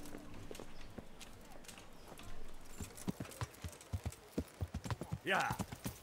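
Horse hooves clip-clopping as a rider travels in Kingdom Come: Deliverance, starting faint and growing into a clear, steady rhythmic gait of distinct hoofbeats, ending with a short horse snort or whinny.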